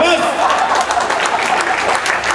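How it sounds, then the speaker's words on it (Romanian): An arena audience at a comedy show breaks into applause, brief clapping mixed with chuckles and crowd chatter while a voice talks over it. "Bravo, aplauze!"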